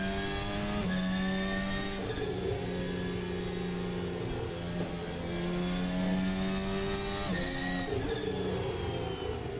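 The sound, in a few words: F1 car engine revving in Assetto Corsa video game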